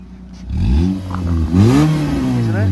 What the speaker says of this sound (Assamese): কি ধুনীয়া সাউন্ড পেট্ৰল ইঞ্জিন গাড়ী